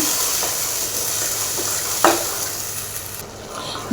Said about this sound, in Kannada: ಈ ಥರ ಆಯಿಲ್ ಜಸ್ಟ್ ಮಿಕ್ಸ್ ಮಾಡ್ಕೊಂಡ್ಬಿಡೋಣ